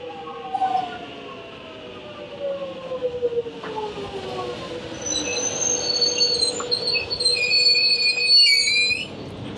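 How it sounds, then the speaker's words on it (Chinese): Suburban train near Melbourne running on the line toward the city centre, with loud, sustained wheel squeal over a steady rolling rumble, rising in intensity toward the end and heard alone without voices. "我从这里呢坐火车去 City， 也就是城市中心"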